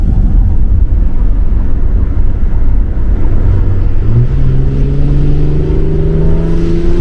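A loud, rumbling diesel engine of a BMW E70 X5 SUV drones steadily up close, its low growl rising in pitch as it accelerates toward the end.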